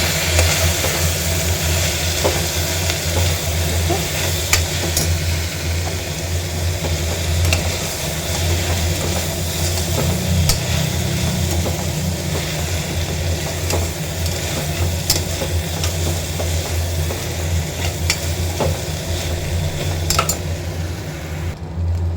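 Lentils being dry-roasted and stirred in a pan for a home-style leafy greens dish, with a constant sizzling hiss over a steady low hum and scattered sharp clinks of a utensil against the pan.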